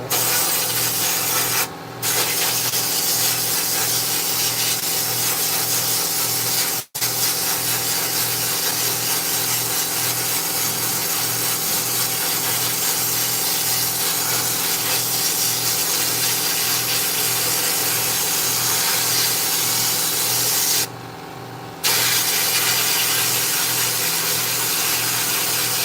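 A wooden knife handle is sanded with sand in a workshop, a steady, loud, rhythmic abrasive rasp with fine repeating strokes, broken only by a couple of brief pauses.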